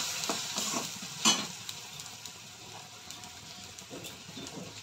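Catla fish curry with lentil dumplings, cumin powder and salt frying in a pan, with a steady close sizzle, soft stirring scrapes and a sharper clatter near the middle, no talk.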